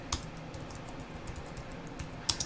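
Someone types on a computer keyboard, producing sparse, faint, close key clicks with a brief burst of several quick taps near the end, set against a quiet room.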